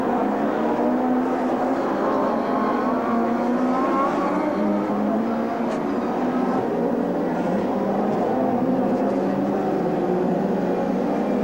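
DTM touring race cars, including a BMW M3, roar past at the Norisring street circuit in 1993, a continuous loud engine drone with shifting pitch as cars pass close by, with no talk.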